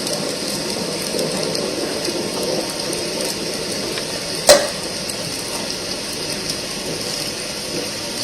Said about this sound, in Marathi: पाऊस.